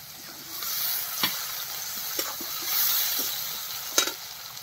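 Chopped onion frying in oil with a low, even sizzle. A few sharp taps and scrapes of a stirring utensil come through, fairly faint and with no talking.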